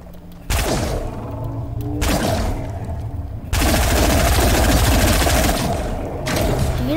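Rapid automatic gunfire crackles in a Fortnite match, a dense, loud burst of shots in sustained volleys with brief pauses between them, set over a low rumble.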